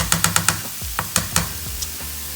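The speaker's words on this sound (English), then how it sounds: "right now this is sauteing" Puerto Rican sofrito sautés in a pan, a soft sizzle under a quick run of rhythmic spoon knocks and scrapes against the pan, then a few slower, spaced taps.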